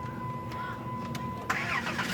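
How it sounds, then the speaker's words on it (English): A 2003 Dodge Grand Caravan engine starting after a quiet stretch with a steady chime, as the starter cranks briefly and the engine catches into a close, steady idle. "Start the car up."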